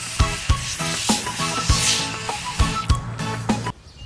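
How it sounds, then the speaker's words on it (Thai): D1 Spec foam cleaner sprays onto a car seat in repeated hissing bursts, with sharp clicks of the nozzle and a rough, even spray noise between them, close and fairly loud with no talking. "เราก็พ่นให้ระยะห่างไม่ต้องชิดเบาะมากนะครับ"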